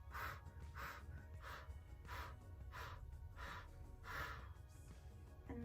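Quick breaths in a core breathing exercise come as about eight rhythmic, forceful puffs at an even pace, fairly faint and close, with no talking.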